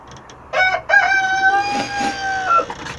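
A rooster crows loudly and close, a long drawn-out call preceded by a few short clucks.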